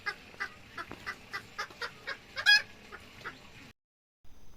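Hens in a farmyard cluck repeatedly in a steady, moderately close rhythm, with one louder squawk partway through before a brief pause.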